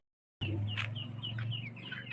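Desi (native) chickens cluck and murmur inside a poultry shed, several birds heard close together over a steady low hum, starting abruptly after a brief silence.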